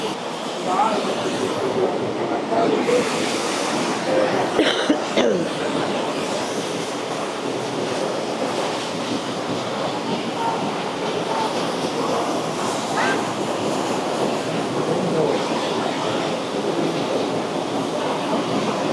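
A steady, loud rush of fast-flowing water fills the whole stretch, broadband and continuous, with faint voices mixed in.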